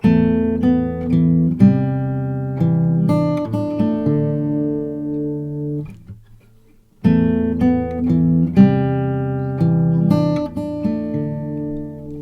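Fingerstyle guitar plays the opening measure of a song, plucked notes ringing in a steady pattern, then a short pause before the phrase repeats, heard alone.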